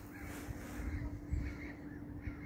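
Faint crow caws repeating a few times in the distance over a low steady hum and rustling background in a forest in spring.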